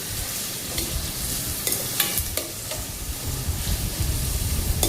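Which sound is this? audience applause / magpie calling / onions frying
onions frying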